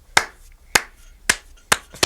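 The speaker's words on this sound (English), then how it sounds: "Vinny is slow clapping" Four slow, deliberate hand claps from one person, evenly spaced about half a second apart, sharp and close with quiet pauses between them.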